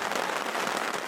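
Rain drums steadily on a camping tarp during a stormy night at high altitude, a dense, continuous patter close overhead with no gaps and no talking.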